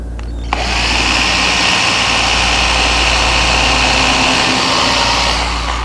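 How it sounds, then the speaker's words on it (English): A power drill pre-drills a nail hole in wood for a hanging cupboard, whirring loudly and steadily after a sharp start, close and continuous for several seconds with no talking. "just a little pre-drill here"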